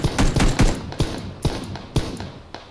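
Gunfire in the video game PUBG Battlegrounds: several sharp, loud shots in quick irregular bursts, then spaced single cracks roughly every half second, each with a short tail.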